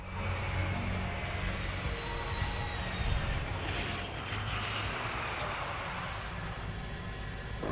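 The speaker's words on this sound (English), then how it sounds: "practice unimproved surface landings with the A-10 Thunderbolt II attack aircraft" An A-10 Thunderbolt II attack aircraft on an unimproved surface, its jet engines producing a steady, loud, broadband roar that holds throughout with a faint high whine on top.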